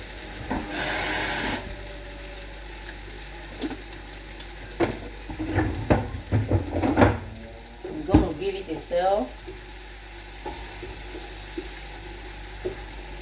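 Yam and honey-bean pottage with habanero pepper and crayfish being stirred in a pot, a few bursts of wet scraping and bubbling near the mic between quieter stretches.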